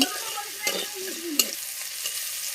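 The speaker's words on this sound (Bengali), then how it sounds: "এটা ক্যাপসিকাম ভেজে নিচ্ছি আমরা" Capsicum frying in hot oil in a pan, a steady close sizzle with a few sharp stirring scrapes and clinks over about two and a half seconds.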